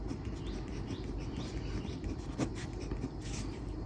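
A teacher writing out a Class 10 maths solution, soft continuous scratching strokes of pen or chalk, faint and close, with a brief sharper tap near the middle.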